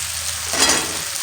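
Masala spices, including chilli powder, sautéing in oil for chickpea curry, a brief close sizzle that swells as the mixture is stirred, no voices.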